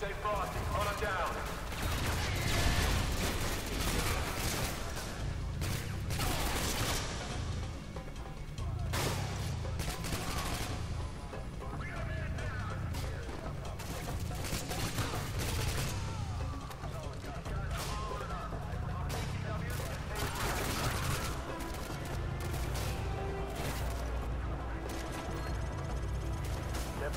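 Sustained gunfire in the Call of Duty Modern Warfare 2 campaign, with dense bursts of automatic fire, single shots and occasional heavy blasts stacking up continuously, while soldiers shout orders over the battle.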